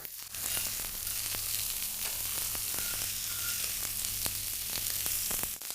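Saltimbocca topped with Parma ham fries in a hot pan, giving a steady, close, moderately loud sizzle with soft crackles and a few sharp pops scattered throughout, with no voices.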